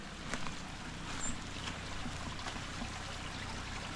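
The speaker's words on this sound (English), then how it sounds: "Water's flowing nice though" Water in a small creek on rural Kentucky property trickles and gurgles past a little log jam, a soft, steady babble heard close and quiet throughout with no voices.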